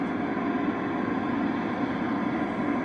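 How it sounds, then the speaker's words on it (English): Steady broadband static hisses from a National NC-183 shortwave receiver during IF alignment. The dense, unchanging noise carries a faint underlying hum and fills the whole stretch without a break or any talk. "Now you hear that static that's coming in?"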